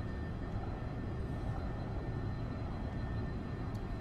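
SR-71 Blackbird jet in the X-Plane 11 flight simulator, a steady low engine drone with broadband rumble holding level and unbroken throughout, no voices.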